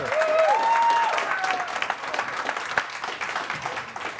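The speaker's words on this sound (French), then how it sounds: "On l'applaudit, mesdames et messieurs." Warm audience applause at a televised hypnotist stage show, strongest at the start and thinning into scattered claps, with a brief rising whistle or cheer early on.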